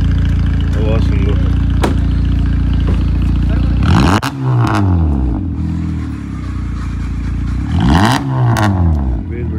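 A Honda Civic's newly fitted aftermarket exhaust revs hard twice, deep throaty blasts rising and falling over a steady idle rumble, loud and close, with voices talking underneath.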